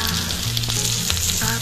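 Tandoori chicken frying in butter in a pan gives a steady, close sizzle and crackle with a few louder spits, no voices, continuous throughout.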